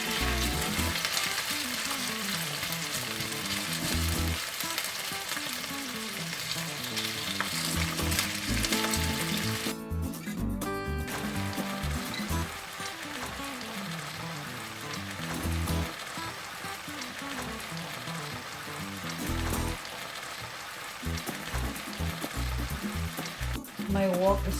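Beef frying in a pan for ampalaya con carne, browned lightly in a deep pan, a loud, steady sizzle close up with occasional stirring and a brief break in the middle.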